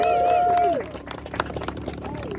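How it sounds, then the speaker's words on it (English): A crowd applauds and cheers for volunteers at an outdoor bouldering competition and fundraiser; a bright whistle-like tone opens, then scattered claps continue through crowd noise. "So huge round of applause to all the guys that came out and helped."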